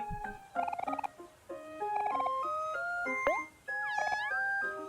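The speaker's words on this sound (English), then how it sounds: "We can also feed this cat." A cat meows in the video game Omori as it is fed, a short series of bright, synthetic chirping cues in a quick melodic run over a quiet background.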